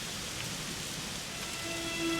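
Steady rain falls in the Dragon Quest XI S video game, a dense continuous hiss of drops patting surfaces, with a faint tonal hum from music underneath.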